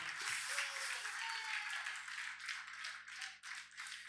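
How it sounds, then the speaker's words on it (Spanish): A church congregation claps in praise during a Spanish-language service, a fairly faint, rhythmic patter of many hands over a low sustained hum. "Vamos, dale palmas de alabanza al Señor con ánimo en esta hora."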